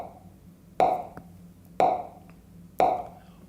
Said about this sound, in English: I'm going to play the metronome at 60 again.